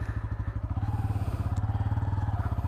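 A Bajaj Pulsar N160 motorcycle engine chugs steadily at low revs while ridden through soft mud on a village road, a close, even pulsing throb with faint clatter.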